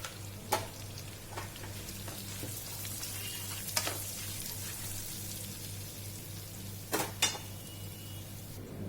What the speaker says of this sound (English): I want to add 1 teaspoon of cumin seeds